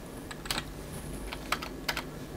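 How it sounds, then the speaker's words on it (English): Keys clatter on a computer keyboard attached to a PC controlling DropArt hardware, sounding in a few short bursts of crisp clicks spread across a couple of seconds, close by and moderately loud with no voices. "typed the wrong thing"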